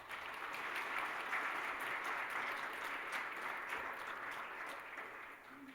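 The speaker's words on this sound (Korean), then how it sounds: "박수로 우리 환영하겠습니다" A church congregation applauds steadily to welcome four visiting missionaries at a Sunday worship service, a sustained, even patter of many hands across the whole span, fading slightly at the end.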